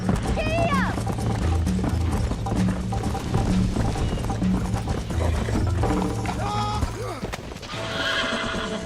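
Horse galloping in the Red Dead Redemption video game, with rhythmic hoof clip-clops, whinnies and neighs over game music while a voice talks throughout.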